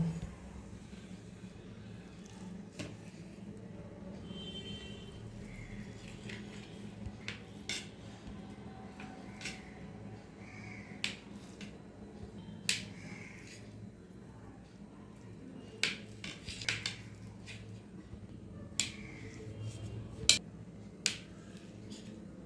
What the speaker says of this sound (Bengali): পনিরটা আমি চাকু দিয়ে ছোটো ছোটো পিস করে কেটে নেব।